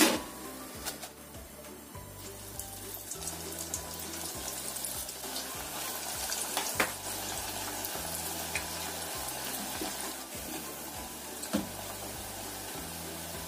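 Coconut and rice flour crackers frying in oil in a small pot, giving a soft, continuous sizzle and bubbling with occasional clinks, under a low repeating musical beat.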